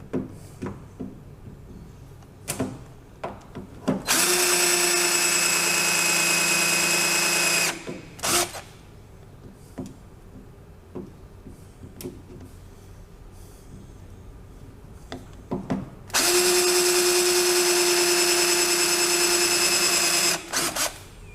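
A power drill or impact tool backs out the bolts holding the roll hoop on an IndyCar top skin, running in two long, loud whirring bursts with quieter clicks and handling noises between them.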